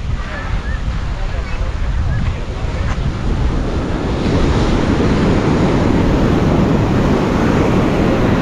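Rough sea waves at a hidden cove in Bali churn and crash in a loud, continuous roar, mixed with gusty wind noise and a faint voice early on.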